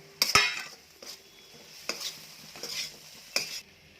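Fried cauliflower pieces tossed into a pan for green gobi Manchurian, a few sharp scraping stirs and clatters of a spatula over a low sizzle, close by, with quiet gaps between strokes.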